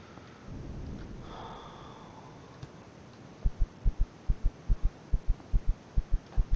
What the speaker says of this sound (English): Love the heartbeat.